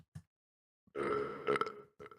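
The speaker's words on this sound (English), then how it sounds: "I burped also." A long, loud belch rumbles out after a brief voice, then trails into a short second burst, heard during a casual video game podcast recording.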